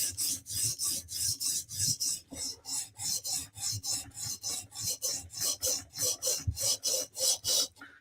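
Sharpening the tip of a Spartan Harsey knife's edge gives a steady run of close, rhythmic rasping strokes, about three per second, crisp and even with no voices over them.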